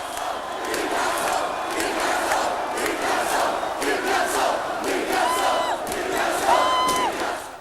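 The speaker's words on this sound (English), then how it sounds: "Listen to the crowd." A large crowd celebrating the Newcastle Knights' 1997 rugby league grand final win roars and cheers continuously, with scattered shouts and whoops rising out of the dense, loud noise.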